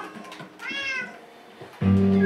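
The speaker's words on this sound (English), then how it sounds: "Here's my pet cat." Pet cat in the Minecraft video game meowing, a few short synthetic mews followed by a louder sustained one at the end, close and clear with no speech.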